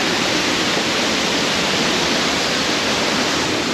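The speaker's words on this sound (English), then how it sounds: "So you can't actually swim at the bottom of the waterfall because the currents are really strong." A powerful waterfall with strong currents in East Sumba, Indonesia, roars as a loud, dense, unbroken wash of water with no pauses and no voices.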